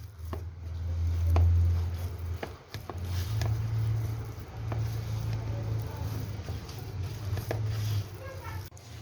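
Dough for Konken börek being kneaded by hand, a soft rhythmic squishing and patting with occasional light thumps against the work surface, close and steady under a low background hum.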